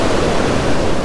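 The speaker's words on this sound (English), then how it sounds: "when waves come in like this, a swell" Ocean surf rolls in over shallow sandy flats in a swell, producing a loud, steady broadband wash of breaking water with no pauses and no voices.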